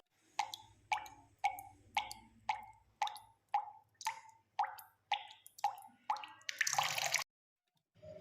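Fish are being released into the Anandapukur fishing pond at Bali, giving a steady run of about a dozen sharp watery plops at roughly half-second intervals, then a brief, louder rushing splash near the end.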